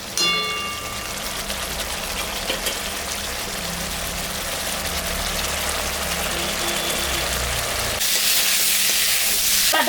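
Ginger, cumin and chili spices sizzle and fry in a pan of oil for a prawn curry, a constant hiss with occasional stirring, close and steady, growing brighter near the end.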